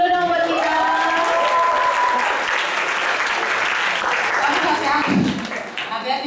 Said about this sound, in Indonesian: Jadi Tepuk tangan dulu dong buat kita.